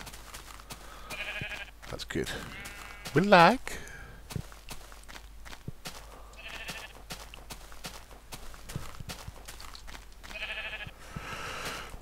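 Sheep in the Minecraft game bleat several times in short wavering calls scattered across the stretch, alongside blocky footstep clicks, while someone talks over them.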